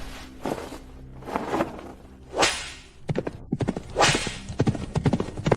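Horse hooves clip-clop in a series of sharp, close knocks, and the beats come quicker and denser toward the end, with a faint whinny-like rise in between.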